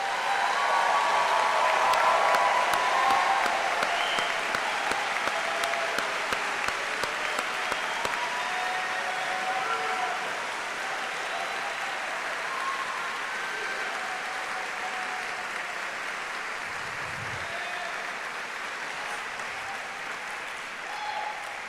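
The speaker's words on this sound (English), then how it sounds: "Give them a nice round of applause" A ceremony crowd applauds newly white-coated medical students, sustained broad clapping that is loud at first and then thins and softens over about twenty seconds, with faint voices in the hall.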